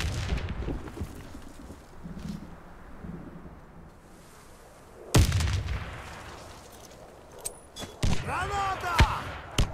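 A grenade goes off during a ranked Warface match, a sudden loud broadband blast near the middle followed by a decaying rumble, with scattered gunfire, clatter and game voice callouts around it.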